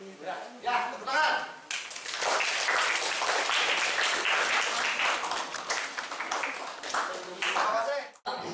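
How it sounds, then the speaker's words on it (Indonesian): Applause from a school orientation crowd breaks out after a voice speaks over the start, then sustained dense clapping fills the space, close and loud, before stopping abruptly near the end. "Ya, tepuk tangan."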